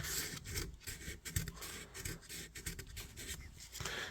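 Sandpaper rubbed by hand over a vintage knife blade, faint close rasping strokes repeating in an uneven rhythm, heard alone without talk.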